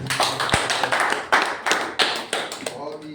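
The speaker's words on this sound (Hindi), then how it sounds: "तालियां हो जाए।" Scattered clapping from seminar attendees, with sharp individual claps in an uneven rhythm, fairly close and moderate in level.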